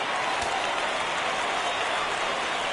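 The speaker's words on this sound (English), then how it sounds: "Crowd gets up for the 3-2." Minor-league baseball crowd at an Altoona Curve versus Akron RubberDucks game, applauding and rising on a full count: a steady, dense wash of distant clapping and crowd noise that holds throughout without a break.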